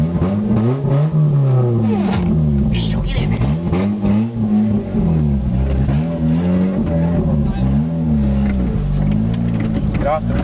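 A 1992 Eagle Talon runs and drives with a manual clutch, its engine note rising and falling with steady revving close by, under ongoing conversation inside the car.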